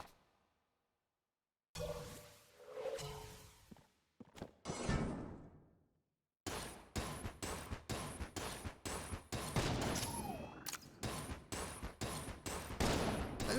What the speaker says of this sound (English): This gun used to shoot faster.